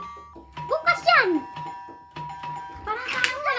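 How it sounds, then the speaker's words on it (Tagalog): A doorbell chimes with clear ringing tones twice, separated by a pause, while someone speaks nearby. "Doorbell eh."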